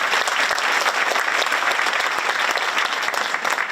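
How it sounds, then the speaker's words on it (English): Applause from the audience at a 9th grade school winter concert after a band piece, dense sustained clapping from a large crowd that stays loud and even throughout. "How about a round of applause for this group up here on that piece?"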